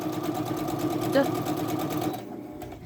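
Sewing machine back-stitching a snap bag, a steady close mechanical whir with rapid needle chatter running for about two seconds, then cutting off.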